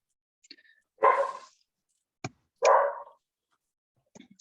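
A dog barks in a few sharp, separate bursts in an otherwise quiet room, heard through a participant's open microphone during an online plant kingdom lecture.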